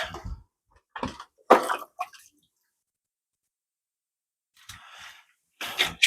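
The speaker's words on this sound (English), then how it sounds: "Sponges just need rinsed off real quick." Aquarium filter sponges being rinsed off under water during a fish tank cleaning: short splashy, squishy bursts of running and dripping water, separated by silent gaps, close and moderately loud.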